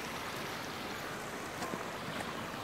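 A rain-swollen river rushes in a steady, dense broadband roar on a chilly, soaking-wet day, constant and unbroken with no voices.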